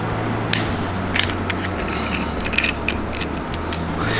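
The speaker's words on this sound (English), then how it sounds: "You got to unscrew this. So we'll just unscrew it enough." A part is unscrewed during assembly, with irregular metallic clicks and ratcheting ticks over a low steady hum, close by and fairly loud, and no talking.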